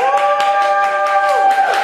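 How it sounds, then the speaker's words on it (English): An audience at a literary reading cheers on cue, a short burst of voiced whoops and sustained shouts layered over scattered clapping, loud and close throughout. "So let's do our little cheer here."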